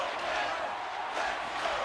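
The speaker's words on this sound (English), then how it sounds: "Now we hear another Let's Go Pens chant" A dense arena crowd roars and chants in a hockey game of NHL 25, a continuous loud wash of many voices with rhythmic swells, no single voice standing out.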